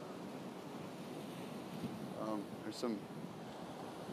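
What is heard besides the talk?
wind blowing by the ocean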